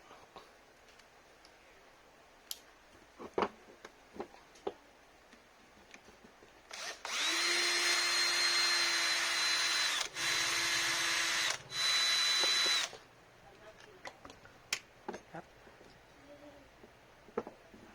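Power tool whirring in bursts while the four screws come out of the gear head of a Maktec MT960 4-inch angle grinder, three close, loud spells of whine separated by short pauses, with light clicks and handling knocks around them.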